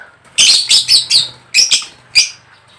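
A lutino hen pet bird gives a run of sharp, close chirps in two short bursts of three and two calls, followed by one more chirp, with near-silence between.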